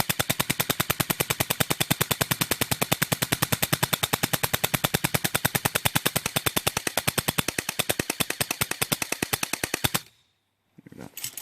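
BB gun rounds strike a Bear Sight V2 scope shield in one sustained, rapid-fire stream of sharp, evenly spaced impacts lasting about ten seconds, then stop abruptly.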